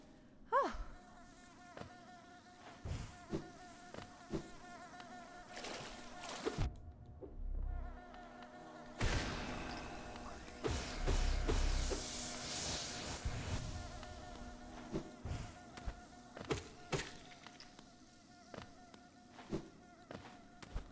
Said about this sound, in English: The little bee noises they make are actually really cute.